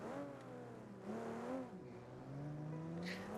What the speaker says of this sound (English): Supras are cars. They are... This car is very loud.